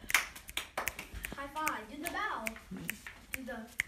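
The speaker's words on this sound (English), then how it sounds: "Good round of applause." Scattered hand claps from a few people, irregular and close, while voices talk and exclaim over them.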